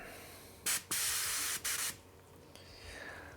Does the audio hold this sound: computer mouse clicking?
no